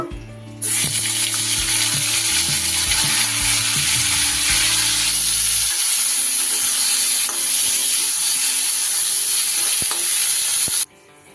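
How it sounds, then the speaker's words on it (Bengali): Cauliflower pieces fry in hot oil in a wok, a loud, steady sizzle that starts abruptly and holds for about ten seconds, with clattering stirring noises early on. "ওই তেলের মধ্যে এবার আমি ফুলকপিগুলো ভেজে নেব"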